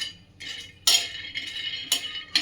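Peanuts dry-roasting on a hot griddle while being stirred, heard as a few sharp metallic scrapes and clinks of a spoon against the pan with quieter rattling between, close and alone.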